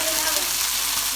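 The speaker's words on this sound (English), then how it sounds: "curry paste into the fry pan and cook it for 1 minute" Curry paste frying in a hot fry pan gives a steady, close, hissing sizzle that stays at an even loudness for a brief moment.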